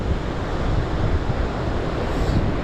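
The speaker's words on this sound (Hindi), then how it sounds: "काफ़ी ठंडी हवा चल रही है, एकदम मस्त हवा है।" Cool wind blows along the seaside at Chandrabhaga Beach in Puri, Odisha, a steady, loud rushing roar mixed with surf, close to the microphone and without talk.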